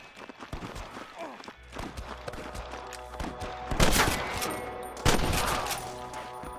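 Gunfire in Red Dead Redemption: scattered shots crack amid game noise and movement, with a couple of louder bursts later, while voices talk in the background.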